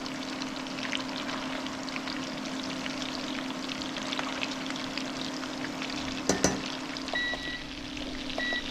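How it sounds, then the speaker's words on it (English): Meatballs sizzle and spit steadily in a hot frying pan as they cook, with a constant hiss throughout, a low hum underneath and a short clatter near the end. "We're frying about 4 minutes each time."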